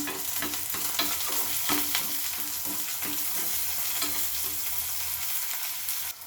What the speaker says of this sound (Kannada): ವಾಂಗಿ ಕಟ್ ಮಾಡ್ಕೊಂಡಿದ್ದೀನಿ ಬದನೆಕಾಯಿ ಅದನ್ನು ಹಾಕ್ಕೊಂಡು ಅದು ಕೂಡ ನಾನು ಚೆನ್ನಾಗಿ ಫ್ರೈ ಮಾಡ್ಕೊಳ್ತೀನಿ